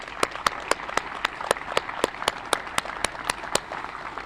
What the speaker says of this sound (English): So I'd like to have a round of applause for the council.